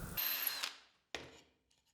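Power drill boring blind holes into wooden boards for a toilet paper holder, bit wrapped with tape as a depth stop: a loud whirring bite into the wood, then a second shorter burst fading out, with no talk.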